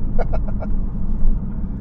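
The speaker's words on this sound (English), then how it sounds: "He probably just wanted to hear your car drive away" An Aston Martin pulls away with a loud, steady low engine rumble that fills the whole moment, with a few quick chirpy sounds early on.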